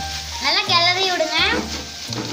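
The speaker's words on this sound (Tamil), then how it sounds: "நல்லா கிளறி விடுங்க" Grated coconut and ivy gourd greens are stirred in a frying pan for a stir-fry, making a low sizzle and soft stirring that stay mostly under a person talking throughout.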